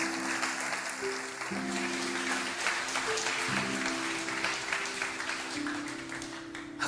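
A church congregation claps together in steady, dense applause under a sustained musical drone, loud and continuous throughout.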